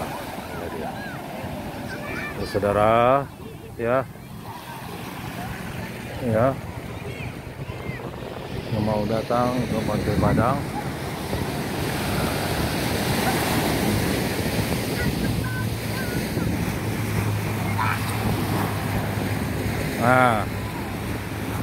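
Evening surf at Padang Beach rolls in as a steady, broad wash of waves mixed with wind noise, running continuously under several people chatting and calling out nearby.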